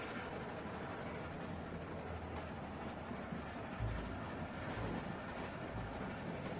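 Moving train in The Walking Dead game, a steady rumbling roll with faint rhythmic clatter and a few low thumps, continuous and fairly close, with no voices over it.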